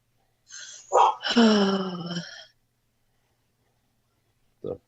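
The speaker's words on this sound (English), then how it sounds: "dog must stop barking" A dog close by gives a short yelp, then a drawn-out, whining bark lasting over a second. After a pause a faint single yip follows, against otherwise quiet surroundings.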